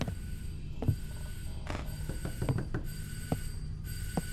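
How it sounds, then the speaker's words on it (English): Doorbell ringing in the horror video game Father's Day, a faint repeated ring over a steady low ambient hum, with no talking. "I thought it was a telephone, but it was a door, the doorbell."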